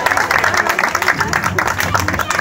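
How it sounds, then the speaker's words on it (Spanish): Audience clapping at an evening civic gathering in La Mata, Tuxpan, a short burst of dense applause mixed with crowd noise, with a voice talking over part of it. "Fuerte el aplauso para ella, por favor."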